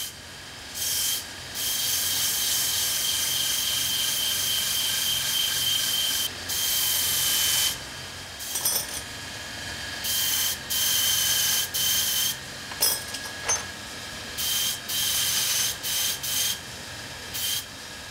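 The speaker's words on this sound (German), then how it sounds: "Am Pliestbock bearbeitet er zunächst den oberen breiten Rücken sowie den gerundeten" The spine and rounded head of a steel straight razor blade are ground on a Pliestbock in a Solingen razor workshop. Repeated bursts of harsh, hissing grinding come with brief pauses between passes.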